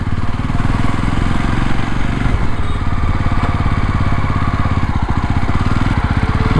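A Jawa motorcycle rides over speed breakers with its engine thrumming loudly and steadily up close. The throbbing pulse is broken by a few faint bumps, and no one talks.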